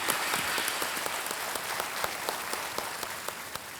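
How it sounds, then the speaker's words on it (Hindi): A studio audience on Kaun Banega Crorepati season 12 gives a contestant a warm welcome with steady, even applause, many hands clapping at once with a few sharper claps standing out, continuous throughout with no talking. "सीमा जी, एक बार फिर आपका बहुत बहुत स्वागत यहाँ पर तालियों के साथ"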